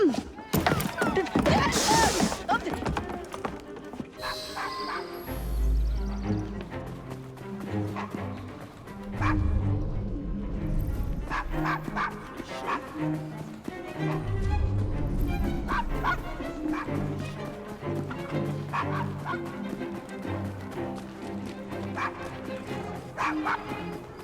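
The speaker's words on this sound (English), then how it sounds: "Nice doggy." A dog in Assassin's Creed Syndicate barks and whimpers in bursts over about twenty seconds, loud and close, mixed with game sounds and occasional voices.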